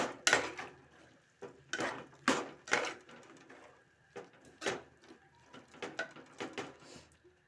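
A spoon clinks and scrapes against a cooking pot while cauliflower curry is stirred, giving irregular metallic knocks and scraping strokes, close and fairly quiet, with no talking.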